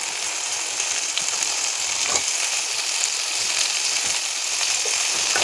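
Tomatoes frying in a pan with curry leaves, a steady even sizzle with occasional stirring scrapes, close and continuous without speech.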